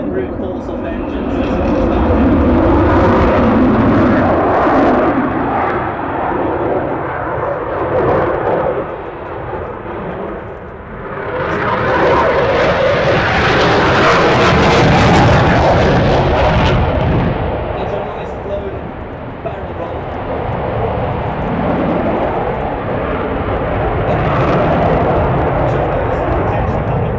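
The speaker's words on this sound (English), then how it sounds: "You can hear the brute force of the engines." Eurofighter Typhoon FGR-4 fighter jet engines roar loudly and continuously, a broad rumbling blast that swells to a peak midway and stays strong throughout, with a voice speaking over parts of it.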